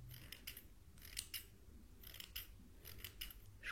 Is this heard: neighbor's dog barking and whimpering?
no